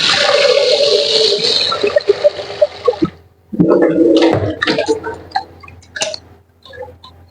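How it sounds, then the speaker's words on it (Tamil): Water poured over rice in a pot to soak it before cooking a South Indian lunch, a steady splashing pour for about three seconds, then a second shorter gush with clinks of the vessel, close and fairly loud. "தண்ணி ஊற்றி கொஞ்ச நேரம் அப்படியே ஊற வச்சு"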